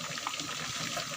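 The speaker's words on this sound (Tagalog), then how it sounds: "Kumukulo na ang pinirito." Battered chicken sizzles in hot oil, giving a faint, steady crackling hiss throughout a brief moment.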